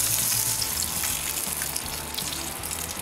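Beef steak fat caps sizzle loudly in a cast iron pan, a dense, steady hiss and crackle, close and continuous, with no talking.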